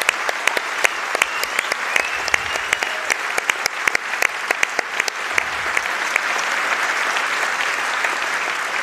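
A live audience at a podcast recording applauds in support of freedom of speech, a sustained dense clapping from a crowd with sharp individual claps standing out near the mics, holding steady for several seconds with no talk over it.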